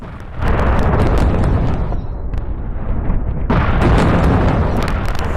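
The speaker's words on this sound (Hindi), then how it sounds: "सेंट्रल इजराइल में यह मिसाइल अटैक हुआ और रिहायशी इलाके में आकर यह मिसाइल गिरी" A missile strike in a residential area of central Israel, heard as a loud, sustained roar with booming rumble and crackle that surges again partway through, harsh and enveloping.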